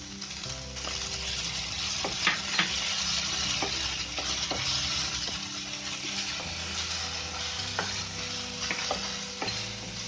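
Grated cauliflower and carrot fry in a hot pan for poha, giving a steady close sizzle with repeated scraping stirs and small clinks of a spatula, no voices.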